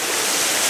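Yellow Bamboo Falls on a hiking trail in Japan roars as a loud, continuous broadband rush of falling water, close and alone.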